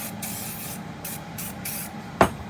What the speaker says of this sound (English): And I hit everything with the gun oil, inside and out.